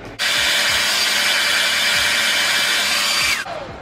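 A hair dryer blows with a steady, loud rushing whir that starts abruptly and runs evenly for a few seconds before switching off.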